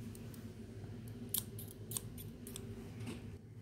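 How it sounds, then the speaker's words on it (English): Scissors cutting open a package, a few quiet crisp snips and crinkles close by over a low steady background hum, with no talking. "So I'm going to cut it open."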